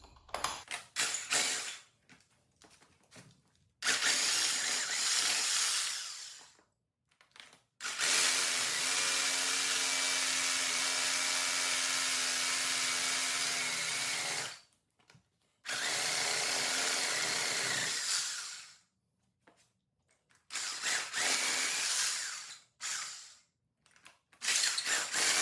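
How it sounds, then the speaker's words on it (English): A power drill runs a bit back through anchor holes drilled in a garage floor for a lift install, several sustained whining bursts of a few seconds each, separated by short pauses, close and loud. "Just run the drill bit back through the holes,"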